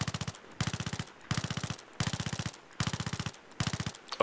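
Rapid bursts of MP7 submachine gun fire in Battlefield 3, six short, even strings of close, loud shots separated by brief pauses.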